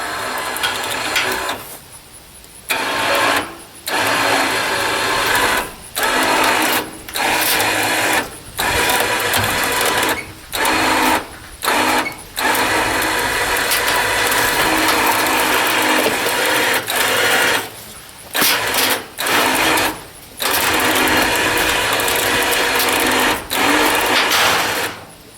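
A power tool repeatedly drives and releases while loosening the cable on a log trailer, loud mechanical whirring bursts broken by short pauses, close and continuous with rhythmic stops.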